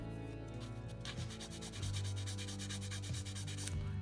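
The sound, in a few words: sanding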